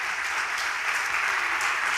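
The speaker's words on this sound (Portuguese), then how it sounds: "Vamos aplaudir a Jesus." Applause from a church congregation at Igreja Pleno Evangelho: a dense, even wash of many hands clapping together, steady and fairly loud for the whole two seconds, with no speech over it.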